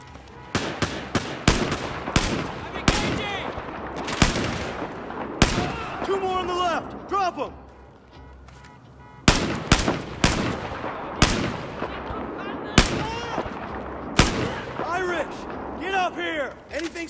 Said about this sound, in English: Heads up, firing.